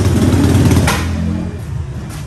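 A motorcycle engine under repair revs close by, a loud throaty burst that eases into a lower idle, with a sharp click partway through.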